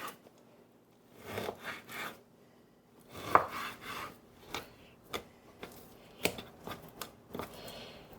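A knife cuts pork loin into large chunks on a board, irregular sharp cuts and thuds coming in short bursts with quiet gaps between them, close and fairly soft.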